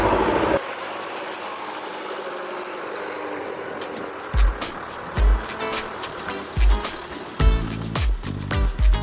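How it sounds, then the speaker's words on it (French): Farm tractor rumbling past on a market garden plot, a low engine drone that builds as it nears, with heavy thumps and knocks recurring as it moves by, close and loud. "On va laisser passer le tracteur."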